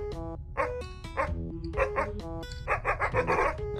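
A dog in the game Something In The Well barks in a run of short, sharp, tonal yaps that come in quick uneven bursts, clear and close with no talk over them.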